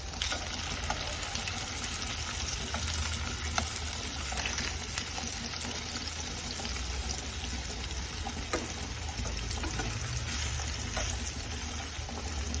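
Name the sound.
vanjeera fish frying in a pan, being flipped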